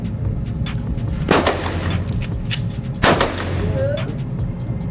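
Two loud gunshots ring out at a shooting range from a gun fed by a 32-round magazine, each a sharp blast with a short echoing tail over steady background noise.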